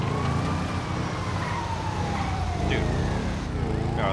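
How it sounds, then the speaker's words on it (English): Ambulance siren in the police-patrol mod of a Grand Theft Auto game, a loud wailing tone sweeping up and down over engine and traffic noise while someone talks. "Oh, the ambulance is coming out twice."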